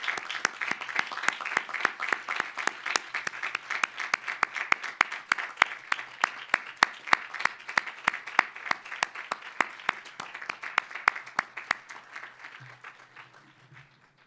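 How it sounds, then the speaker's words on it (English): Graduates at a graduate and doctoral commencement ceremony give their guests a long, steady round of applause, dense clapping from a large crowd that holds for about twelve seconds before thinning out near the end. "say thank you once more for their support with a resounding round of applause"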